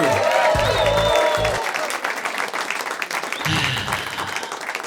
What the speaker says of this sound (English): round of applause for your MC, Nick Rado!